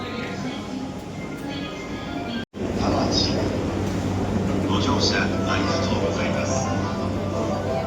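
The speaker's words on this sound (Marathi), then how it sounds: "हे बघा, ट्रेन पण आली आहे तामाची वरून." A steady rumble of a train pulling in, with hiss and squeals from the wheels and brakes, loud and close in a busy Tokyo station.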